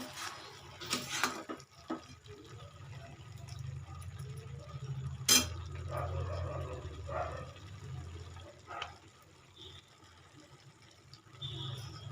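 Banana flower curry is stirred in an uncovered pot with a low, soft sizzle and intermittent scrapes and clatters of the spoon against the pot. One sharp clank stands out, and no one talks.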